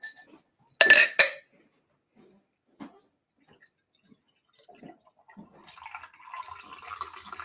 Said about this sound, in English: Okay, so I'm going to pour it in here.